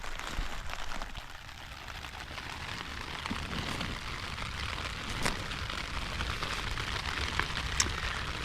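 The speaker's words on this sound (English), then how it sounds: "Wow, it's raining into my tea." Rain patters onto a camping tarp shelter on an Iceland evening, a soft continuous hiss dotted with sharper individual drops striking close by.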